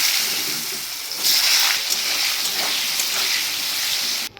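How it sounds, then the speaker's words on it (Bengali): Potatoes frying in hot oil give a steady, close, loud sizzle with bubbling hiss that holds throughout and cuts off at the end, with no voices. "আর আমি আলুগুলো লাল লাল করে ভেজে উঠিয়ে নেব।"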